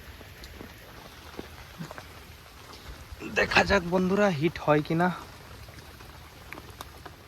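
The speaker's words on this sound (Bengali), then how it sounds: "নদীর পাড়ে বসে আছি অপেক্ষা করছি জলও পরপর বেড়ে যাচ্ছে বৃষ্টি পড়ছে" Rain falls steadily on a riverbank during wet weather, making a soft, even patter and hiss that runs through the whole stretch, while someone talks briefly partway through.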